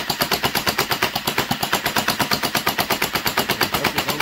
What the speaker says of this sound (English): Y'all see the rapid fire.